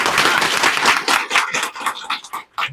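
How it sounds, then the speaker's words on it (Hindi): An outdoor village crowd watching a street play claps in a brisk, uneven burst, loud at first and then breaking into scattered claps that trail off. "सबसे पहले ताली बजाइए इन भाषा की"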